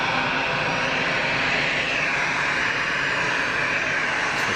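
A Swiss airliner sits lined up on the runway at Geneva Airport, its jet engines giving a loud, even, broadband roar with a bright hissing upper layer, continuous and unbroken.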